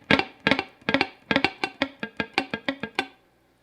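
A funk guitar strummed with the fretting fingers lifted just off the neck, muting the strings into a dozen crisp, percussive chucks in a steady groove, close and alone.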